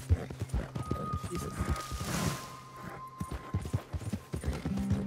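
Hooves of a horse in Red Dead Redemption 2 clop in an irregular walking rhythm, close and moderately loud, with a faint tonal game sound in the background and a brief spoken exclamation.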